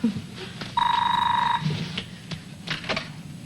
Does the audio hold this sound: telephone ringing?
yes